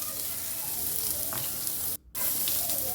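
Two large chopped onions frying in hot oil with curry leaves for a chayote (chow chow) poriyal, giving a steady, close, crackling sizzle that drops out for a moment before resuming.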